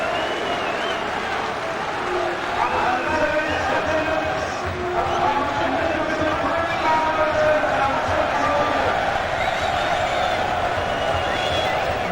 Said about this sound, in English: A good crowd in here at Fleetwood tonight.